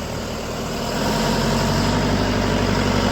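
A LOVOL 504 tractor's 50-horsepower diesel engine idles steadily close by, a low continuous rumble with a chugging throb that gets slightly louder partway through.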